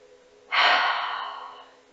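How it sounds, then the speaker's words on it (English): A single deep breath taken during a slow yoga stretch, a sudden breathy inhale that swells then slowly fades over about a second and a half, close and clear with no talking. "Let's take one more breath"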